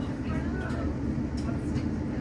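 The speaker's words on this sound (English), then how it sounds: "So we're stood in the bay platform at Wolverhampton station" A train idles at the bay platform of Wolverhampton railway station, a low continuous rumble of engine and platform ambience with faint background voices.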